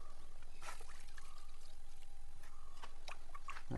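Water is poured from a vessel around the base of plants on a village farm, a faint, soft trickle under a steady low outdoor hum, with no talking.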